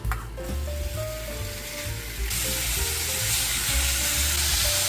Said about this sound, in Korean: 식용유를 다시 한번 살짝 둘러준 다음에 고기를 다 투하해 주도록 하겠습니다